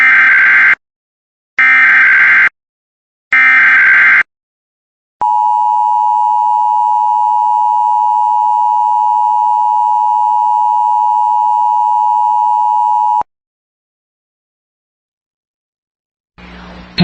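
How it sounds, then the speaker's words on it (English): Three loud, evenly spaced EAS data bursts are followed by a long, steady, piercing attention tone lasting about eight seconds during an Emergency Alert System test broadcast in Northeast Illinois, then silence and a brief final burst. "If this had been an actual emergency, official messages would have followed the alert tone."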